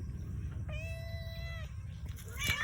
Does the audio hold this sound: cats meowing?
yes